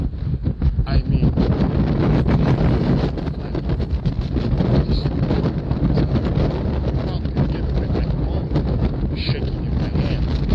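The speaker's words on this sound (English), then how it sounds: "Crazy windy on the walkway bridge right now." Loud, constant wind buffeting the microphone on a walkway bridge, with heavy low rumble and roaring gusts throughout.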